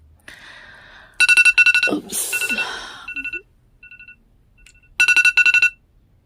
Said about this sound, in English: I turned my phone off, but alarms still go off